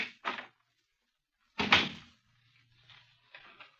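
A door opens in a 1951 Scotland Yard radio drama, with a couple of short knocks or handle clicks followed by a louder latch-and-swing thud, then faint low creaking and shuffling in a quiet room.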